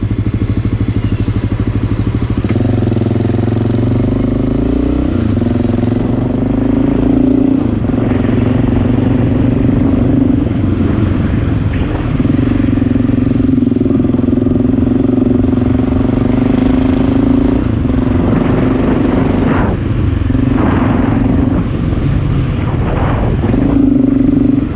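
A Honda XR650L dual-sport motorcycle exhaust idles loudly, then revs up and down several times in strong bursts, close to the microphone, with no talking.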